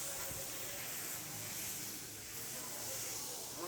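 Hilsa fish and eggplant fry in hot oil in a pan at Mawa Ghat, Bangladesh, giving a steady, dense sizzling hiss that holds throughout without pause.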